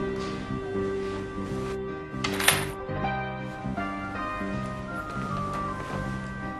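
A set of keys handed over indoors gives a bright metallic jingle partway through, heard faintly over a steady background music bed.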